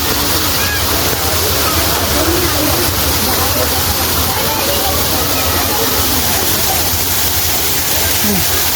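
Waterfall at Meghdoot Garden park in Indore, a steady broadband rush of falling water filling the whole clip, close and loud, with a crowded outdoor setting around it.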